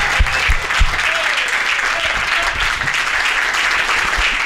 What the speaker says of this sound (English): Everybody, let's give a round of applause for John.